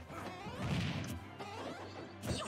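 Up smash attacks land in a Super Smash Bros match, with loud crashing impacts and whooshing hits over a noisy game soundtrack, including two sharp hits close together near the end.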